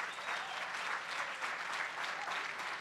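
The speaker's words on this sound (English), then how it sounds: "So would you join me in giving your colleagues in this room a round of applause for their important work?" Audience at a conference plenary session on the opioid epidemic applauds steadily, a dense, even wash of clapping from a large room that holds constant for the whole stretch.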